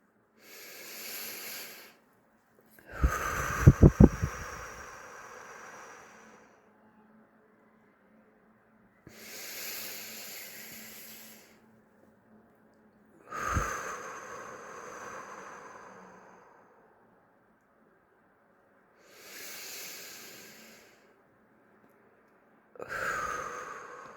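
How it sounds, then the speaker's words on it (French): Three slow, deep relaxation breaths taken close and alone, each a long airy inhale followed by a drawn-out sighing exhale, with quiet pauses between them. "je vous propose de prendre 3 respirations qui vont vous permettre de vous relaxer"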